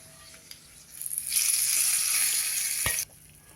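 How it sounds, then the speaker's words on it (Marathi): Hot tadka of oil with red chilli powder is poured onto chutney, bursting into a loud, steady hiss that swells after a second, holds for about two seconds, then cuts off, with a faint clink near the end. "हा तडका आता चटणीवरती ओतूया"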